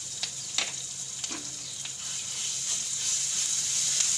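Ginger-chili paste, curry leaves, turmeric and asafoetida fry in hot oil for a vada pav potato filling, giving a steady close sizzle and hiss that swells slightly, with a few soft spoon ticks and no speech.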